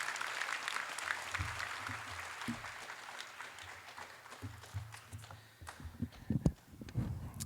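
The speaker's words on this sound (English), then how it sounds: "Can we give our MCs so far a big round of applause?" An audience at a school class night applauds the MCs, a dense, steady patter of clapping with scattered louder claps that swells again toward the end.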